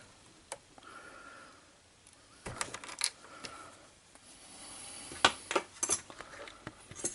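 Metal teaspoon scraping and prying at a knob on a JVC RC-727 boombox, giving scattered sharp clicks and ticks close up, with quiet gaps between small bursts of metallic contact.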